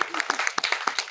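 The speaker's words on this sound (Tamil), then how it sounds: "தயவு செஞ்சு நீங்களே ஒரு தடவை கை தட்டிருங்க" An audience at a stage event claps in a short, quick burst of fairly close, uneven hand claps, with voices mixed in.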